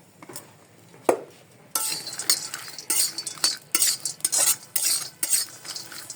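Cashews and other nuts fry in a pan, stirred with a metal spoon that scrapes and clinks in repeated close bursts with a light sizzle, preceded by a quieter stretch with a single clank.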